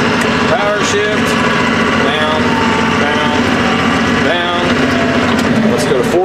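A 1996 AGCO White 6144 tractor engine runs loud and close, its pitch stepping up and down as it power shifts through gears while someone talks over it.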